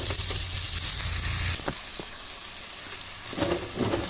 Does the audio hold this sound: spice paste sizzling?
yes